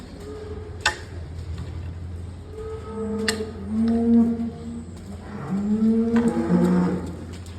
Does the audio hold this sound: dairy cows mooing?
yes